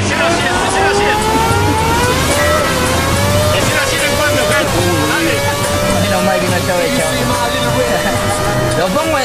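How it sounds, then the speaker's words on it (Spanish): A taxi engine revs under full throttle, its rising whine climbing steadily and loud throughout, with people talking over it inside the car. "Y ahí lo acelero a fondo, Fredito."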